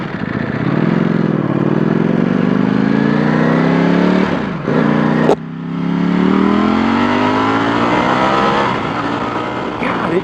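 A 2018 Ducati Panigale V4S motorcycle engine at speed, loud and close, with rising revs through the gears, a brief dip for a shift midway, then climbing again under wind roar.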